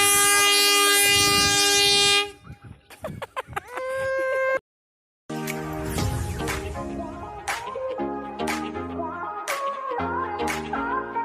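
A train horn blasts loud and steady, broken by a brief silence, then clattering rumble and repeated horn tones as the train passes close by, with a faint rooster-like call in the mix.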